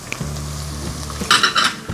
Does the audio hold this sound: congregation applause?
no